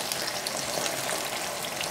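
Onion and potatoes fry in olive oil for a Spanish omelette, giving a steady, close sizzle that hisses evenly throughout with no voices.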